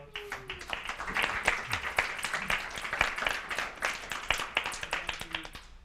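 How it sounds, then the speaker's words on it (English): A small audience at a panel discussion claps steadily for several seconds, a dense patter of hand claps at moderate volume with no voices. "Give a round of applause."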